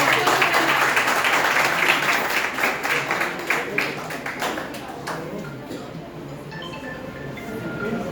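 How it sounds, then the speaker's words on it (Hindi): A seminar audience in a B.Ed. department breaks into loud applause. Dense clapping fills the first few seconds, then thins and tapers off, leaving a quieter room with faint scattered sounds. "जोरदार तालियों के साथ"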